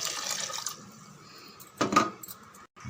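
Lentil cooking water pours into a pot in a short splashing burst after a quieter stretch of faint watery hiss, then stops.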